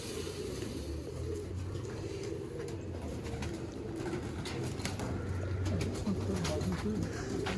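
Pigeons cooing on a rooftop in Haripur, Hazara, soft repeated low coos over a faint distant hum of traffic, quiet and continuous.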